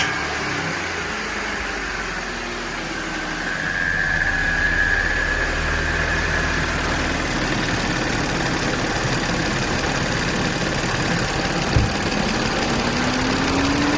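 An Audi S4 engine fresh from an upgraded fuel pump install runs at a steady idle, a continuous mid-pitched hum that swells slightly after a few seconds, with a faint squeal and a brief thump near the end.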